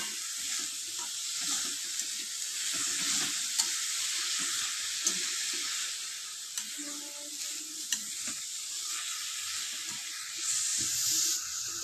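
Grated carrots and sugar being stirred in a pan for Bengali carrot payesh, a steady soft hiss of simmering with occasional scrapes and light knocks of the spoon, with no voices.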